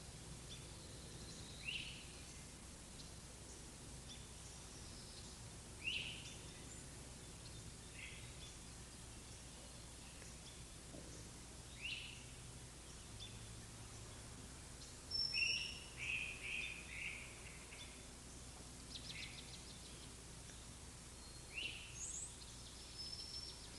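Quiet outdoor ambience with scattered bird chirps and short calls repeating every few seconds, faint and distant, with a soft insect hum beneath.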